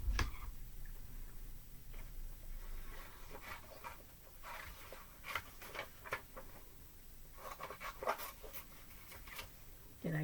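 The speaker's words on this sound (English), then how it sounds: "Now I'm going to cut out my 2 leaves." Paper leaves are cut out with scissors in a run of soft, close snips and rustles that come in irregular bursts across the clip, with faint murmuring in the background.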